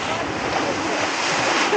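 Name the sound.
water fountain splashing at caravan park pools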